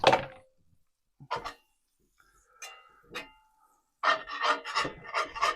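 Metal scraping across a hot frying pan used for cooking breakfast eggs in butter, heard as separate rasping strokes with pauses, then a quicker burst of repeated scrapes, close and fairly loud.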